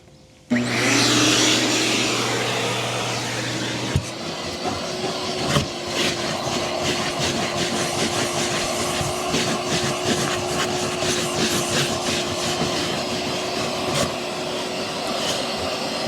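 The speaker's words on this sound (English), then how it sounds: "so let's re-vacuum" A vacuum cleaner running on a car floor mat during detailing switches on abruptly and keeps a loud, steady roar with a whining tone, nozzle scraping and rattling over the mat throughout.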